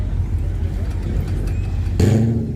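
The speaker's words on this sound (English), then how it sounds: "You got a nice little BMW coming in over here." A BMW car rolls in at an evening car meet in an IHOP parking lot, its engine a low steady rumble nearby that swells briefly louder near the end, with a voice talking over it.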